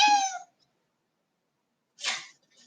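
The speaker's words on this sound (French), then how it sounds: "Je vais ouvrir au chat parce que sinon, on n'aura pas la paix." A cat meows indoors during a hatha yoga class, wanting to be let out: one clear, close, drawn-out meow, then silence and a short breathy cat sound.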